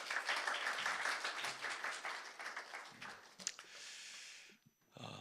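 A church congregation applauds to welcome their pastor, a dense wash of clapping that thins out and stops near the end, with a few faint murmurs and noises in the room.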